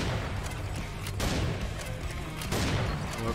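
Continuous loud gunfire with heavy booming bursts fills the fight in the video game Serious Sam 4, dense and unbroken, with no talk over it.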